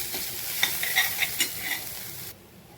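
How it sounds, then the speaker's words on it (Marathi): Onion, coconut, garlic and poppy seed masala paste roasting in a pan, with soft sizzling and several light spatula stirs and scrapes nearby, ending abruptly in quiet, no speech. "मसाला आता चांगला भाजला."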